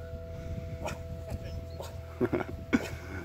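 A dog whimpers and gives a few short yips at close range on the grounds of a ruined hall in Goyt Valley, soft and intermittent with quiet background sound.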